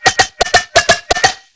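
Neurofunk bass synth patch heard dry, without its granular effect: six short, punchy growling bass hits in quick uneven rhythm, bright and loud, each cut off sharply, with no voice over them.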